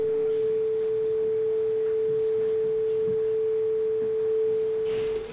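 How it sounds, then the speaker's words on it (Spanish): A pure sine tone is mixed with broadband noise as an audio demonstration, the steady unwavering pitch holding constant over a continuous hiss for several seconds. "Imaginaos que mezclamos nuestro tono puro con el ruido."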